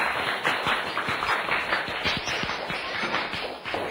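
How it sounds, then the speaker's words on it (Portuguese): Classroom applause for two elected class candidates, a crowd of students clapping steadily and densely throughout, fairly close and lively, with a few faint voices mixed in. "Uma salva de palmas para o Anilson e para a Laís."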